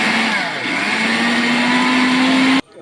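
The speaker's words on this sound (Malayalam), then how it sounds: "വറുത്തെടുത്ത തേങ്ങ മിക്സിയിലിട്ട് അടിക്കണം," A kitchen mixer grinder blends roasted coconut and cumin into a thick paste, a steady loud whirring drone with a slowly rising motor pitch that cuts off sharply near the end.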